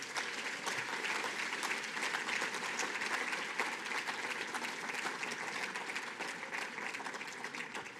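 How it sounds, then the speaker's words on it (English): Sustained audience applause fills a large hall at a conference opening session, dense steady clapping from many hands continuing evenly without voices on top. "Give him another round of applause."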